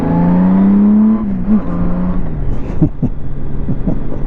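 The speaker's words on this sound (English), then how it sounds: "oh, this bike is just so smooth and powerful." A 2002 Honda GL1800 Goldwing motorcycle engine hums smoothly while riding, with a steady drone that shifts in pitch, then settles under wind noise and a voice speaking briefly.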